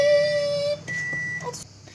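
Two electronic beeps from a microwave oven after softening butter, a long tone followed by a higher one, close and clear, with faint background noise.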